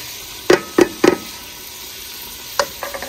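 Onion, green chili and tomato in hot ghee in a pan, heard as a few sharp spoon-on-pan knocks and stirring scrapes over a faint steady sizzle, close and clear with no voices.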